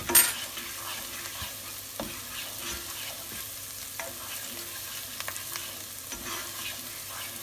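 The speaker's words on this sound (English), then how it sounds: "fry off the garlic for about a minute" Garlic fries in a pan with a steady close sizzle, broken by a few sharp scrapes and taps of stirring, and no voices over it.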